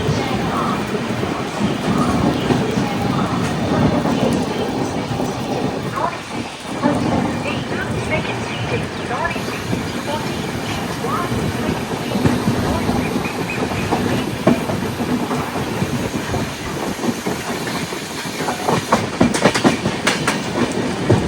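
The Jamnagar–Tirunelveli Express runs along an Indian rail line, heard as a continuous rumbling roll with rhythmic clickety-clack of wheels over rail joints and gusts of wind buffeting close by throughout.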